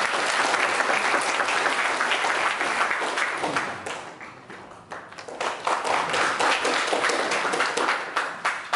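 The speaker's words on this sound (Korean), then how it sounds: "큰 박수로 맞아주시면 감사하겠습니다." Audience at a National Assembly policy forum on strengthening industrial technology protection applauds steadily, a dense, fairly loud wash of clapping that dips briefly midway, then swells again.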